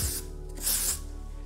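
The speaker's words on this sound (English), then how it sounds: "Spray it with your texture spray." Two short hissing bursts of hair texture spray misted over a soft upswept updo, the second one longer, close to the mic with no talking.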